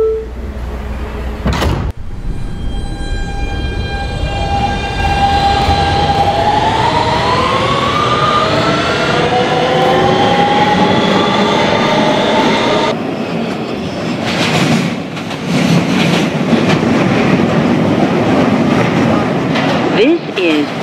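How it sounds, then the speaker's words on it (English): An R160B Siemens subway train runs on the BMT Broadway Line in a Roblox game, with a loud motor whine rising in pitch as it accelerates and a steady rumble under it. An announcement voice speaks over the train. "This is a Queensbound N Express train."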